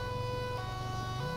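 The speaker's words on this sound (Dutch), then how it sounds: "Jullie mogen de sirene snel uitzetten." Fire truck siren in GTA 5, a steady electronic wail holding level over a low engine rumble for about a second and a half, loud and close with no other sounds.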